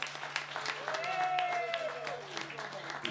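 Audience applause at a stage event, a steady patter of many hands clapping heard at low level, with a voice speaking briefly over it.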